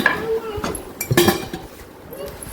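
Small metal pots and kitchen utensils clink and clatter in a few quick bursts while being handled, close by, with someone speaking between the knocks.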